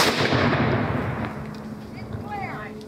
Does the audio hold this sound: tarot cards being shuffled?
no